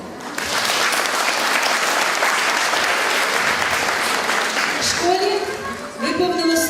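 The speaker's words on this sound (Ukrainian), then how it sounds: "Оплески" An audience claps warmly at an anniversary celebration for a Ukrainian school in Caserta, Italy, with loud, sustained applause for about five seconds before a voice begins speaking as the clapping fades.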